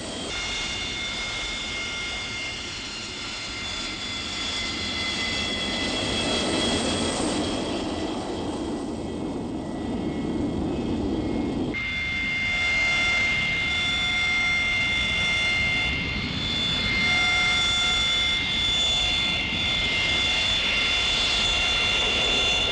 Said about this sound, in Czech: Po přistání posledního letounu pojíždí celý roj na určenou provozní stojánku.